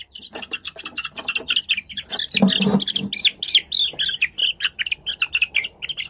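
A chick sick with fowlpox chirps close by in a rapid, continuous series of high peeps, with a brief scuffle partway through.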